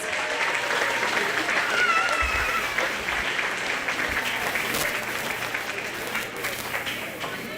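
Steady applause from a crowd at a county fair fills the whole stretch, loud at first and slowly tapering off slightly.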